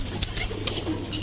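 Pigeons in a village loft in Singair, Manikganj, coo softly and restlessly, with short overlapping calls and faint rustling across a brief, steady stretch.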